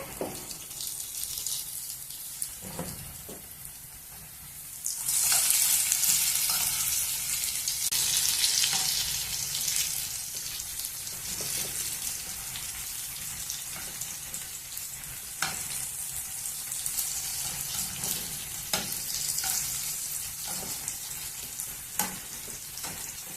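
Raw banana slices fry in a pan over medium flame with a steady, close sizzle as they are slowly turned and stirred. A louder, brighter burst of frying comes a few seconds in, and occasional utensil scrapes break the hiss.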